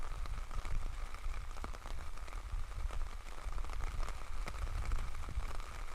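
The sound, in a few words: rain falling on outdoor golf course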